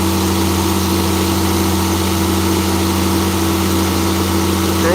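An International 9130 tractor engine holds at high RPM with the air conditioning running, a loud steady drone with strong constant tones and no change in pace.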